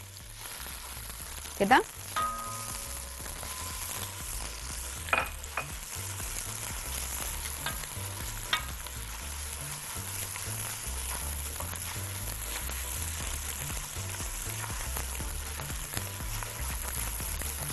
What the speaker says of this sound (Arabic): هنزل الاول بالبصلايه